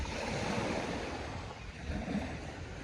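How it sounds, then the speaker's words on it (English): Ocean waves wash steadily onto a rocky shore, a continuous broad surf roar with gentle swells and some wind, heard close and alone. "listening to the waves"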